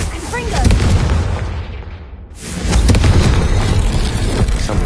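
Confringo blast spell explosions in Hogwarts Legacy, two loud, thick booming bursts with rumbling low tails separated by a brief quiet dip, with spoken voice mixed in.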